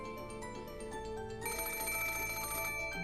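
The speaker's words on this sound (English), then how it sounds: "It's just a phone call." A telephone rings in the visual novel Umineko, a repeating electronic bell tone over layered background music, moderately quiet, with no talk.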